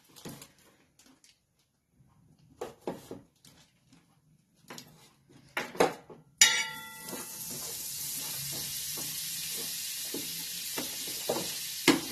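Pav bread buns roasting on a pan: a few scattered clinks and taps, then a sudden loud sizzle that settles into a steady hiss for the rest of the clip, close by and with no talking.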